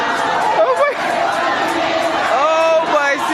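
A protest crowd in Rivers State fills the scene with dense, continuous chatter and scattered shouts and whoops, steady and close throughout, with voices rising above the general din.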